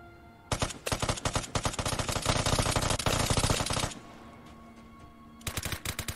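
Rapid automatic gunfire from the video game Vigor: dense, loud bursts of shots run for about three and a half seconds, pause briefly, then start again near the end.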